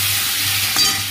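Potatoes fry in a pan for a vegetable shukto, a brief, steady hiss of sizzling oil with a faint clink near the end and no talk.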